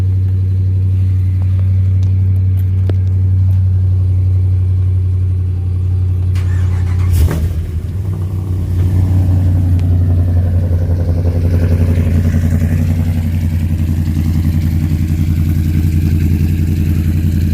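A loud Whipple-supercharged truck engine with a newly built motor idles with a deep rumble, then surges in a brief rev and settles back into a throaty, steady running note.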